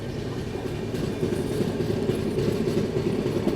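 The Vikramshila Express passenger train rolls along, a steady low rumble of wheels and carriages with faint rhythmic clatter, heard from on board with no talking.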